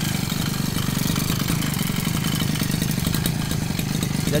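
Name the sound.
small kayak engine starting and running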